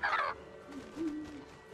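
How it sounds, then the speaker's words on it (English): Goofy birds in the video game Creatures of Ava let out a sharp, bright gobbling squawk, then quieter wavering calls follow, close and alone. "those birds are so goofy"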